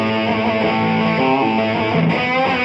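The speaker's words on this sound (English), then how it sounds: "Cool bluesy rock riff, right?" A bluesy rock riff played on an Epiphone Gold Glory Jared James Nichols signature electric guitar, with a loud, dense, distorted tone of sustained chords and bending notes that run without a break, and no talking.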